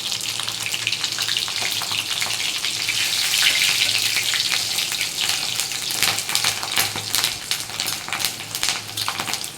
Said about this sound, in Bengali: তেলের মধ্যে এবার আমি একটু 5 ফোড়ন, আর চিরা কাঁচা লঙ্কা